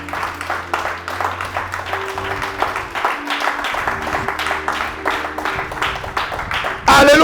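A church congregation applauds and cheers in acclaim during a worship service, a steady, dense wash of clapping and voices lasting throughout, with sustained organ or keyboard tones underneath and a louder burst at the very end.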